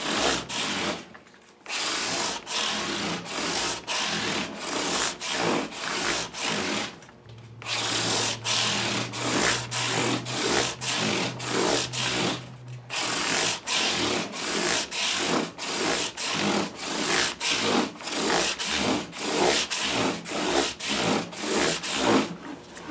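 A Telecaster guitar's frets are polished to remove file marks, giving rapid, rhythmic back-and-forth rubbing strokes, close and steady, with two short pauses, no voices.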